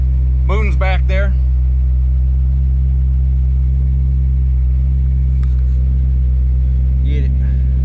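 The engine of a 1967 Ford Fastback is running with a loud, steady, close rumble at idle throughout, while a voice speaks briefly near the start and again near the end.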